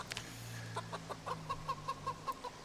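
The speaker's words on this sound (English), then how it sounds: "There's a lot of fucking chickens here." Chickens cluck in a farm video game, a run of short repeated clucks and squawks from a small flock, fairly close and alone without talk.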